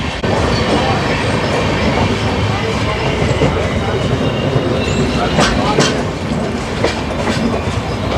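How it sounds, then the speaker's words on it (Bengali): The Howrah–Jammu Tawi Himgiri Express passenger train pulls into Chittaranjan station, rumbling loudly and steadily with clattering wheels, occasional metallic squeals rising over the heavy noise. "চলো চিত্তরঞ্জন ঢুকছে ট্রেন"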